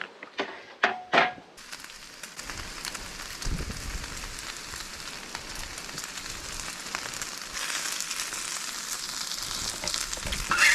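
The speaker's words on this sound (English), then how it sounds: "All right, this bacon is done." Bacon sizzles steadily in a pan of bacon grease, a dense close crackle that runs throughout, with a few sharper clatters of handling near the start.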